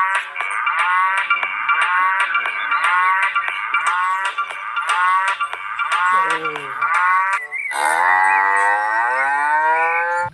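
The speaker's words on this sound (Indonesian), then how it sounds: "Ternyata ada hewan sapi." A cow moos loudly and close by in long, drawn-out calls that run almost continuously, with a second lower moo breaking in partway through, alone without speech.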